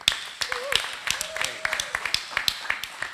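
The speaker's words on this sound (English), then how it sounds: "So everyone give a big round of applause for Shane Bailey." An audience claps for speaker Shane Bailey at a talk on protecting yourself from bad actors, with scattered sharp claps over a murmuring crowd and voices.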